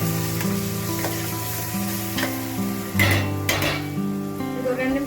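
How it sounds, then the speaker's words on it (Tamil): Chicken biryani masala with curd and lemon juice sizzles in a pan while a spoon stirs it, giving steady frying hiss and a few clattering scrapes against the metal, close up with no talk. "ஆட் பண்ணிட்டு நல்லா ஒரு தடவை கிண்டி விட்டுக்கலாம்."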